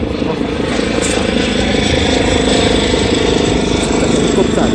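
A helicopter drones steadily and loudly, its engine rumble and rotor noise filling the whole stretch without pause.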